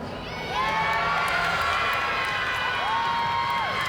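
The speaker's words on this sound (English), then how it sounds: "we hear a big cheer go up from the Iowa State team" A women's college gymnastics team from Iowa State cheers after its anchor gymnast's routine, a sustained burst of shouting and whooping with rising voices that swells after the first half-second and holds loud to the end.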